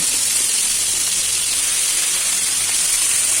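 Salted, turmeric-coated shrimp frying in hot mustard oil in a wok, a steady, loud broadband hiss and sizzle that runs unbroken throughout with no voices.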